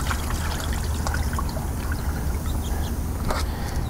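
Excess water being poured out of a container of pool filter sand for an aquarium substrate, a continuous trickling and splashing pour, close and steady throughout.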